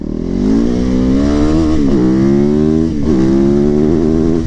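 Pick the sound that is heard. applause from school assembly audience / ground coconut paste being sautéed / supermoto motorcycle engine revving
supermoto motorcycle engine revving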